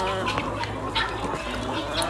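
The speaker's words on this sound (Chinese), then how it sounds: "家人们应该都听得到珍珠鸡的声音吧？" Guinea fowl on a hillside chicken farm give harsh, rapid, repeated calls with several birds overlapping, fairly close, over a continuous low hum.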